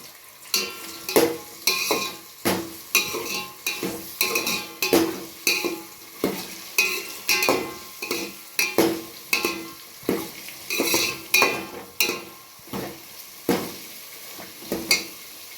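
Soy chunks (meal maker) frying in a pan for veg biryani, a constant sizzle under a steady rhythm of loud scraping stirs, roughly one stroke every second, all close up.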